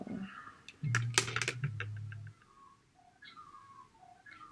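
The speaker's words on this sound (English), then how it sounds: "You can hear all the birds." Birds call and whistle outdoors in the daytime, a brief burst of sharp chirps and a low whistled tone early on, then faint scattered tweets in the distance, all fairly quiet.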